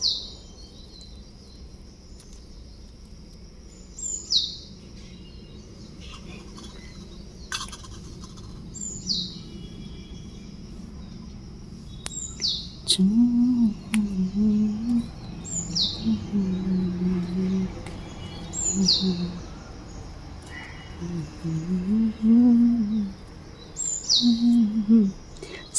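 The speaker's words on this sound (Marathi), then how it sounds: "किलबिलाट चालू असते पक्ष्यांचं मस्त चिवचिवाट चालू असते चिमणी पक्षी पोपट" Morning birdsong near a mango tree, with sparrows and parrots: short, bright chirps repeat every few seconds at a moderate distance, with lower calls joining in the second half over a quiet background.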